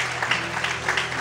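A church congregation claps together in steady, dense applause that fills the room at close range, with no break.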